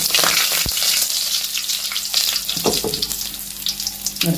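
Curry leaves hit hot oil in a pan with a sharp crackle, then fry in a busy, close sizzle with scattered pops and a couple of louder spits.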